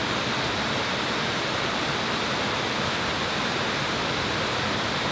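Banyumala waterfall pours in a steady, dense roar of falling water, loud and constant without breaks, heard close up with no voices over it.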